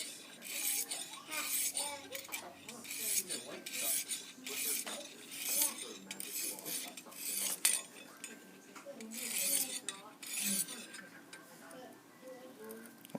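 A knife is drawn against a Lansky controlled-angle sharpening stone in repeated short scraping strokes, each a bright rasp, close and fairly quiet, with a voice talking in between.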